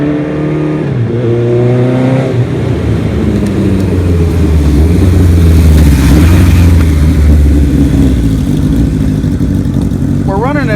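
A 1975 Kawasaki Z1 900 motorcycle engine running with 10W40 petroleum oil, a loud continuous rumble that rises and falls with throttle blips, heard from close behind with voices faintly mixed in.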